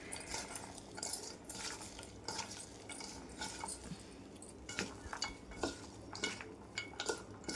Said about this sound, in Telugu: వీటన్నిటిని మంచిగా ఒకసారి కలుపుకుందాం. ఆనియన్కు సాల్ట్ కారం పట్టే విధంగా మంచిగా ఇలా కలుపుకుందాం ఒకసారి.